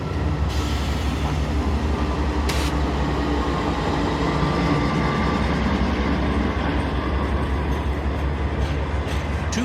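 Norfolk Southern freight NS 251, made up entirely of Triple Crown RoadRailer trailers, rolls past on a Sunday morning in Jacksonville, a loud, continuous rumble and rattle of wheels on rail with occasional sharp squeals.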